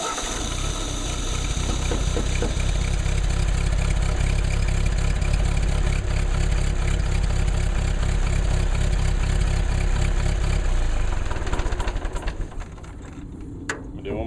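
1948 Ford 8N tractor engine running without its fan or alternator belt, a loud, close rough chugging rumble for about eleven seconds before it drops away to a quieter tail.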